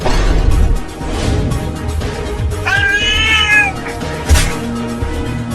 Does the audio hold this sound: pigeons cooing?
no